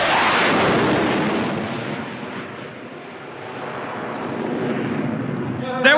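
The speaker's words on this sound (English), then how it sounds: "there was a large explosion!" A large cartoon explosion rumbles loudly at first, then settles into a long, fading roar of debris and rumble before a short burst at the very end.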